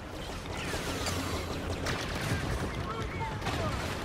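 Rapid blaster fire in the Star Wars Battlefront heroes-versus-villians mode, a steady dense barrage of shots layered over continuous game noise and sweeping laser tones, with a player talking over it.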